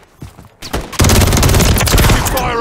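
Dense automatic gunfire from the Call of Duty MW3 video game, a few scattered shots at first, then a loud sustained burst of rapid overlapping rounds running to the end.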